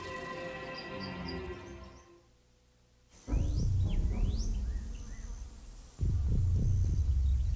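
Solitary bees buzzing in a morning garden, a steady insect drone with loud, close bursts of buzzing passing near, cutting out briefly and returning with renewed intensity.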